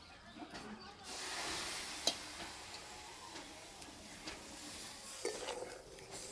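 Milk poured over semolina in a pan, then stirred with a utensil, giving a soft broadband wash with scattered light clinks and scrapes against the pan, close and quiet.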